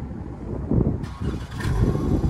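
A Chrysler 300S V6 engine fires up with a short low growl, a warm start rather than cold, then settles into a rough rumble, close by with no talk.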